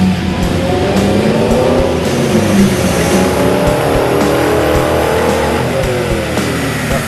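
A C5 Corvette engine revs hard on a dynamometer, a loud sustained roar climbing in pitch through the pull with rising harmonics, heard up close indoors.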